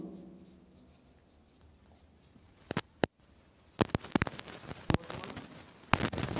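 Pen scratching on paper while a math solution is written out, with sparse, faint strokes turning into a quick run of sharp taps and scrapes.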